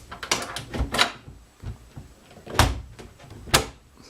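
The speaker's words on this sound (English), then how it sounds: "So that's the door fully closed." The door of a Lotus Elan S2 under restoration is shut several times in succession, giving close, sharp thuds and latch clicks spaced irregularly, with quiet pauses between.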